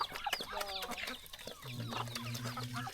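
Chickens clucking at a rural village home in Laos, several birds giving overlapping clucks and short calls nearby over a busy outdoor background, with no clear talking.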